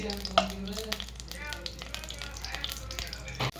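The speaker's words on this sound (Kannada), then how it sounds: "ತುಪ್ಪ ತಗೊಂಡಾನೆ ಇದ್ರಾಗ ಗೋಡಂಬಿ ಒಣ ದ್ರಾಕ್ಷಿ ಅವನು ಫ್ರೈ ರೀ" Cashews and dried raisins fry in ghee, a close, continuous sizzle and crackle with stirring scrapes, a sharp clatter near the end and a voice talking faintly over part of it.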